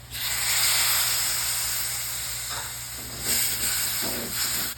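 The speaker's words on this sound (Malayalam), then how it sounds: "അതിലേക്ക് കാൽ കപ്പ് വിനാഗിരി ഒഴിക്കാം" A quarter cup of vinegar poured into a pan of chopped dates over low heat for a lemon-date pickle gives a steady, close hiss that swells and fades in soft surges.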